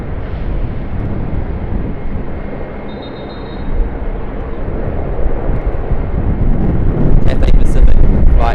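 Cathay Pacific Flight 100 at Sydney Airport, a broad, continuous jet engine rumble that grows louder toward the end, with a brief voice near the close.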